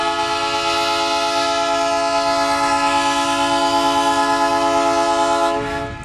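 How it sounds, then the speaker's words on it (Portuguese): A train horn sounds steadily and loudly as a train departs Santa Luz station in Bahia. The horn holds one long sustained blast for about five and a half seconds, then cuts off near the end. "Trem pegando rumo aí, ó."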